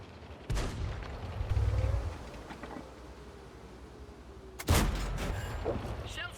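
A Scorpion premium tank destroyer in World of Tanks fires its cannon twice, each shot a sharp, heavy boom followed by a rumbling tail that fades over a few seconds.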